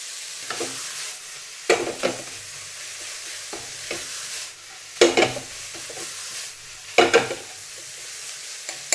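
Minced pork with preserved Chinese olives is stir-fried in a pan, a soft sizzle under several loud scraping stirs that come in bursts about every one to two seconds, close up with no talk.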